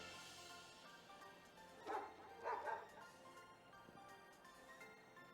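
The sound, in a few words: dogs barking in the video game Pokémon Scarlet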